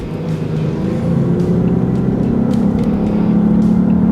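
A luxury performance hybrid in Sport Plus mode revs steadily toward 3,000 RPM, a close, continuous engine hum with a low droning tone and no talking.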